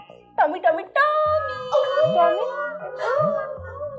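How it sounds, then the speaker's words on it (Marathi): A tied-up dog barks and howls up close in a series of yelping, drawn-out cries, with a few short pauses between them. "आमचा कुत्रा त्याला बांधून ठेवलंय."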